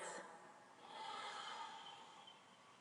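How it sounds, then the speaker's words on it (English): A single slow, deep inhale and exhale of breath, quiet and close, with a soft airy hiss that swells and fades. "clearing breaths"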